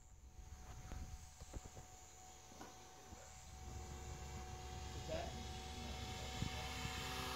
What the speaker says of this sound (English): One more warbird passing and landing to see if it's caught.